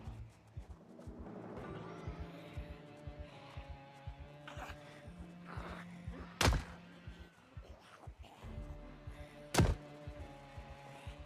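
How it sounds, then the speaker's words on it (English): A wall being smashed down in a base-building video game: a rapid series of dull thunks and thuds, with two sharp louder cracking impacts, moderately close, with no talk over it. "Now we destroy the wall."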